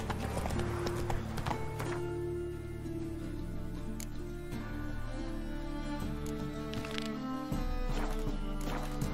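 Roach the horse walks in The Witcher 3 game, giving steady clip-clop hoofbeats over low ambient music, with a brief whinny-like sound and no speech.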